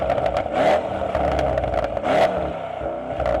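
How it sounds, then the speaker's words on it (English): Mercedes-AMG E63 S with an aftermarket exhaust revving hard close by, two sharp surges rising out of a rumbling idle with a raspy, loud exhaust note. "Good old Zane's fitted an exhaust. Sounds mega."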